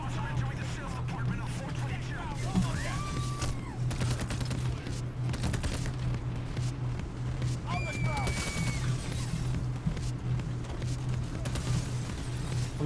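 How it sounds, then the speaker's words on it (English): Gunfire in the video game Payday: The Heist during a diamond heist, sustained bursts of automatic shots rattling continuously over a low steady hum, with a voice talking over the fight. "I'm engaged in fierce gunfire here."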